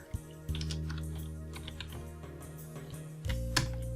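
Computer keyboard keys pressed in a steady run of close, crisp clicks and taps, with no talking, while filling in a form in LibreOffice Writer.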